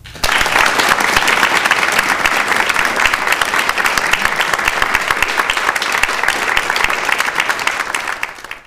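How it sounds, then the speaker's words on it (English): An audience at a classical music festival gives a full round of applause, loud, dense clapping that starts abruptly and holds steady for several seconds before tapering at the end. "And how about one more round of applause?"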